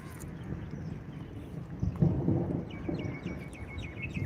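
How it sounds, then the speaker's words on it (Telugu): Low, rolling rumble of distant thunder over Konaseema paddy fields in summer, swelling and fading, with faint chirping birds in the background. "ఉరుముల శబ్దం వినిపిస్తుందా"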